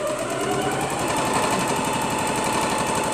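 Steady, continuous rapid stitching of a sewing machine sewing down the top of a round fabric bag, close and constant for the whole stretch with no talk.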